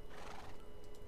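A horse in the video game Minecraft gives a clear whinny, close and fairly loud, with faint hoof clops, and no talk over it.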